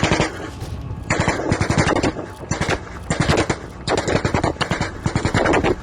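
Rapid bursts of automatic gunfire from fighting in Mali, loud and close, with repeated machine-gun volleys separated by short pauses across the whole stretch.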